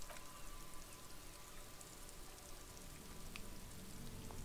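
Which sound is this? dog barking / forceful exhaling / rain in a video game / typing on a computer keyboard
rain in a video game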